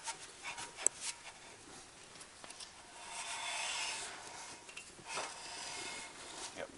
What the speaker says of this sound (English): do a final clean up on our rotor here